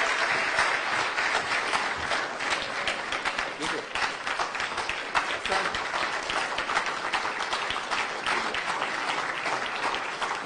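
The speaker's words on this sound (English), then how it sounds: "A round of applause" Sustained applause from an audience fills the hall after a political speech by Kenya's president Uhuru Kenyatta, a dense, steady clatter of many hands lasting throughout at even loudness.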